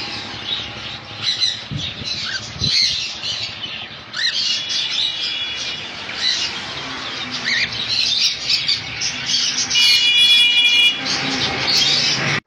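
Caged pet birds at a bird sale squawk and chirp continuously, a loud, dense chorus of many overlapping calls close at hand.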